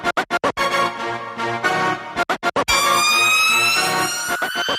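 An ambulance siren wails loudly and close, in choppy bursts of rising tones followed by a sustained sweeping wail.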